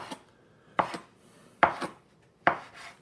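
A knife chops gnocchi dough into pieces on a board, giving three crisp, evenly spaced cuts that land close and clear, with no talking.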